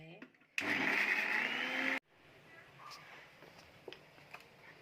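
Sprouted pulses being ground with a few leaves in a mixer grinder, a loud steady whir for about a second and a half that cuts off sharply, followed by quieter kitchen noise.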